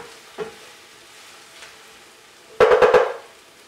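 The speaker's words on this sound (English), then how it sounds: "In goes the garlic. And cook for another couple of minutes." Garlic frying in a pan while cooking an Italian marinara sauce: a faint steady sizzle runs under a few soft clicks, then a loud burst of four rapid scraping stirs near the end.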